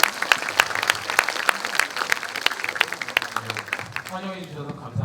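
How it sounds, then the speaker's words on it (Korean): An audience applauds to welcome a professor taking the stage for a brain science lecture, giving a steady wash of claps for about four seconds that thins out toward the end. "자, 우리 큰 박수 한번 부탁드릴게요."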